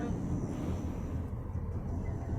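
An airplane passes near a Narasimhar temple in Chennai, a faint, steady low engine rumble heard from a distance with no voices over it.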